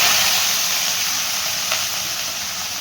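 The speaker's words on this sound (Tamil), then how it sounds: "வெங்காயம் பச்சை மிளகாய் நல்லா வதங்கட்டும்" A loud, steady sizzle of onions and green chillies frying in hot oil fills the clip, a constant hissing crackle with no talking.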